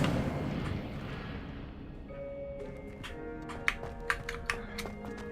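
Incendio fire spell cast in the game Hogwarts Legacy: a heavy, rumbling burst that fades out, then a rising tone and a scatter of sharp crackling pops.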